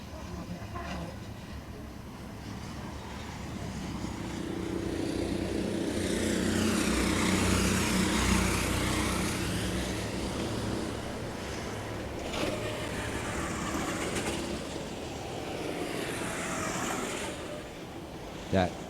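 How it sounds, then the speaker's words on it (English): Two racing karts at the 2022 Kart World Championship swell in one after another as they come off the joker lap into the mandatory pit stop, their engines rising and fading across a steady crowd-and-track background. "those two karts you just heard, that is Alejandro and Camilo coming in."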